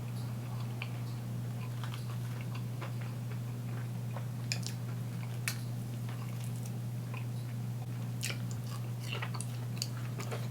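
Close, soft chewing of a Wingstop chicken sandwich in Louisiana rub flavor, with scattered small wet clicks and crunches over a steady low hum.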